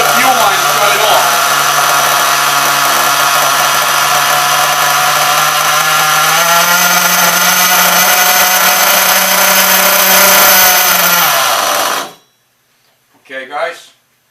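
A nitro-fuelled HPI Savage RC truck engine, fitted with a Losi .427 motor, idles loud and steady with a high buzzing drone for about twelve seconds. It then cuts out abruptly, followed by a short burst of sound.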